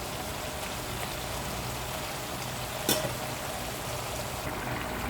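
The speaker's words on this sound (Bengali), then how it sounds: "আমি একটুখানি পানি দিছি কষানোর জন্য" Bottle gourd greens sautéing in a pan with a little water added, a steady soft sizzle and bubbling hiss with one brief sharp clatter midway, no voices.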